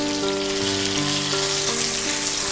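Crushed masala and curry leaves frying in hot oil, a steady close sizzle with crackling spread across the whole stretch, while a soft tonal hum sits underneath.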